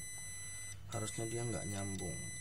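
A multimeter continuity buzzer beeps while probing a Lenovo V130-14IKB laptop board with a short on one line, a steady high tone holding under a man's nearby speech.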